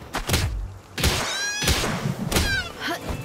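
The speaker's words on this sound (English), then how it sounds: "I can't capture them, so I'm punching these sheep." Sheep being punched in Palworld, played in first-person VR: a series of dull thumping impacts spaced about half a second to a second apart, each followed by short bleating cries.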